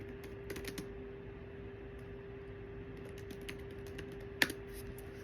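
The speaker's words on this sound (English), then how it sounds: "Just like typing in to Chat GPT real quick." Keys on a computer keyboard are tapped in a few quick, faint clusters with pauses between them, plus one sharper click near the end, over a quiet room hum.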